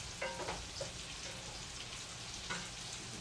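Sausage frying in a pan at full heat gives a faint, steady sizzle with occasional soft pops and crackles, no one speaking.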